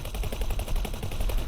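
Flak cannons and pulse guns firing in the space game X4: Split Vendetta, a fast stream of rapid, evenly spaced shots that are loud and close with no pause.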